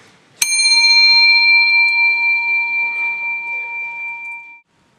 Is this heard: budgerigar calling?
no